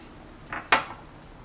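Chopped onion tipped into a hot cooking pan gives a short soft scrape and then one sharp clatter against the metal, alone and close by.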